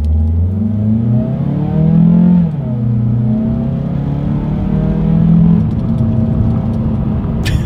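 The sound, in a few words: compact SUV accelerating from a stop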